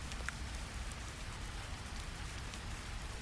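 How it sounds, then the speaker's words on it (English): Gentle rain falls steadily in a soft, even hiss with faint scattered drips, quiet and unchanging throughout, with no voices. "Let the gentle rain continue."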